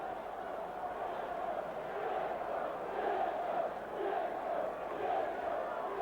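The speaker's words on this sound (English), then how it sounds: "there's just got a huge cheer up from the Port Vale faithful" Port Vale supporters in a stadium crowd at a 1993 football match against Barnet, a sustained swelling roar of cheering that rises and falls across the clip, heard at a distance with a faint hum underneath.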